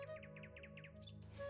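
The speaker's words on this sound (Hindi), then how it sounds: "एक छोटी सी चिड़िया आसमान से उड़ती हुई आई और पास के पेड़ पर बैठ गई।" A small sparrow chirps in a Hindi cartoon story: a quick run of about eight bright, evenly spaced chirps over a steady musical drone, followed by a brief higher whistle.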